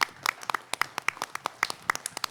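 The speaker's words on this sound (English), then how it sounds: "I would like to ask everybody to give a round of applause for security" Scattered, uneven handclaps from an audience at a Century Village delegate assembly, applauding the security staff; a modest, sparse burst of clapping heard up close for a couple of seconds.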